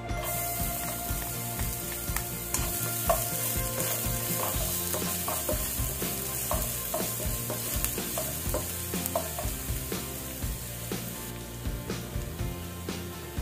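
Garlic sizzles and crackles steadily in hot oil for Thai noodles, with a dense, continuous frying hiss broken by frequent scraping stirs and light clatter, close and fairly loud throughout.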